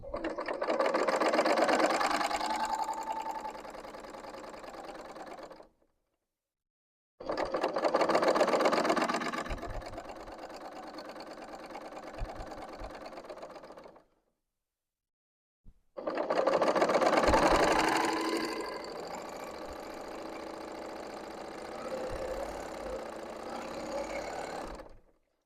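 A serger sewing machine chaining off thread to make tassels, running in three long, loud, steady whirring stretches separated by short silences, close and clear.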